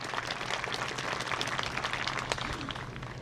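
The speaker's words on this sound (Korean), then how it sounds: "다시 한번 큰 박수 부탁드리겠습니다." At a university entrance ceremony held in a hall, the audience gives moderately quiet, sustained applause, a busy patter of many hands heard from a distance with a faint steady hum beneath.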